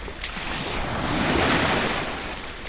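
Steady wash of surf breaking on a private beach in Portland, Jamaica, a continuous broadband roar swelling toward the middle, with some wind noise on the microphone and no voices.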